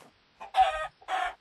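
Chicken in the Minecraft video game clucking in two short bursts, a brief cluck then a longer, louder one after a pause, close and clear with no talking.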